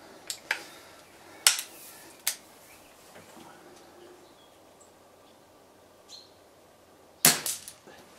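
A Walther LGU air rifle firing outdoors at spinner targets: several sharp, snappy cracks spaced irregularly with short metallic ringing, the last followed by quick small pings.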